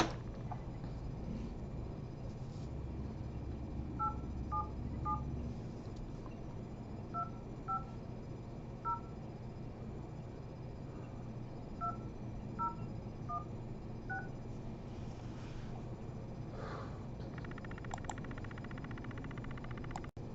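A telephone number being dialed on a keypad, with short, clear DTMF beeps in small groups separated by pauses over a faint background hiss.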